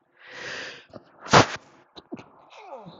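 A single sharp sneeze bursts out, preceded by a short breathy intake and followed by faint sniffs and small vocal sounds, close and fairly quiet.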